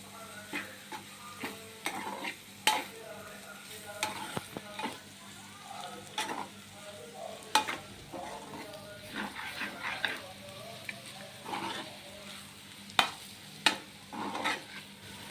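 Carrot pieces and peas frying in garlic-chili paste in a pan, with a steady sizzle and repeated clacks and scrapes from stirring, and a dog barking briefly in the background.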